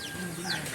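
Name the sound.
chickens clucking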